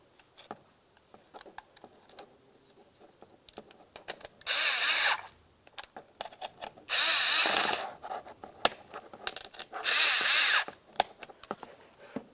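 A power tool drives 7mm mounting bolts on a 2000-2006 Chevy Tahoe seat in three loud whirring bursts, with small clicks and ratchet ticks of handling between them.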